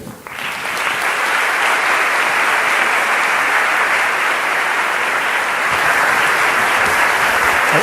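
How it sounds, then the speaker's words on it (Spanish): A large audience in Colombia gives Dr. Martin Seligman a welcoming round of applause, loud, dense and sustained from a brief quieter start through to the end, filling the hall without voices. "démosle un aplauso de bienvenida al Dr."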